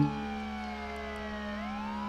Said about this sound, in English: Another police car?